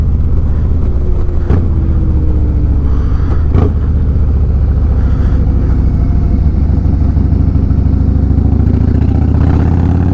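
A Harley Low Rider S with a 117 engine and Red Shift 468 cam rolls on in third gear, a loud, steady, close engine roar with a rising pitch and a couple of sharp clatters, with no talk.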